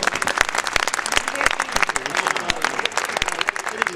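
Audience applause fills the room, with dense, lively clapping sustained throughout at close range and some crowd voices mixed in.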